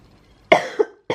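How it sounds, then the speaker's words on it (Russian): A person coughs twice: a sharp cough with a small follow-up hack, then a second short cough after a brief pause, close and fairly loud in a quiet room. "Та не кашляй на мене."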